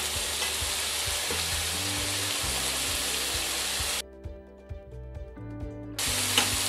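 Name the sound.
mushrooms sautéing in a pan for pork cream dish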